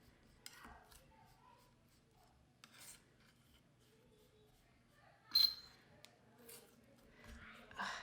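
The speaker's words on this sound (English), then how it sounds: "Sometimes the palette knife makes the worst sounds." A palette knife scraping a homemade pastel mixture of natural dyes and earth pigments, making faint, scattered rasping scrapes with one sharp, louder screech midway, in a quiet room.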